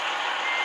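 A Renault T-Range 2020 truck in Truck Simulator Ultimate sounds a steady, loud electronic reversing beep that continues without a break through the short stretch.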